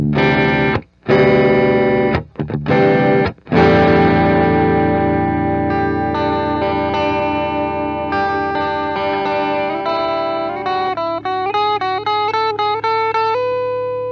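Electric guitar loop run through a Stax Odrive-1 overdrive pedal with the tone set near 2 o'clock: loud, saturated sustained chords with brief gaps, then a run of distinct overdriven single notes, with no talking.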